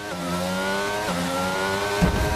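A Formula 1 car racing in wet conditions at Monaco in the F1 22 video game, with a high, loud engine whine that rises and shifts through gear changes and ends in a brief rougher burst.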